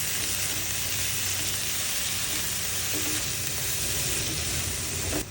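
Onion, tomato and chopped carrot sautéing in a pan for sweet corn masala, a soft continuous sizzle and hiss with faint stirring scrapes, fairly quiet and steady.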